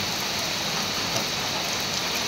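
Steady, dense rainfall hisses continuously across the whole stretch, a broad wash of drops pattering on surfaces with no voices.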